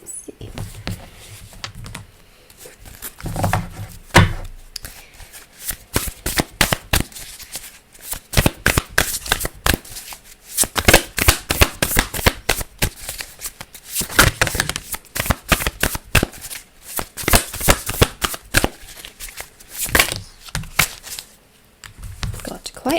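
A deck of tarot cards being shuffled by hand in a series of rapid, papery riffles and bursts, close and moderately loud, with short pauses between passes and light handling noise.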